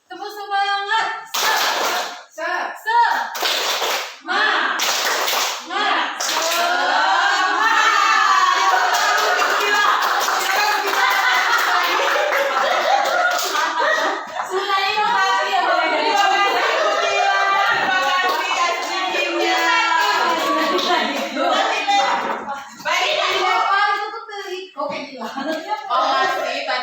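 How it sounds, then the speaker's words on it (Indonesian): A group of teachers does a rhythmic Indonesian spirit clap, sharp hand claps in set patterns punctuating chanted voices, with lively group talk and shouting throughout. "Tepuk semangat."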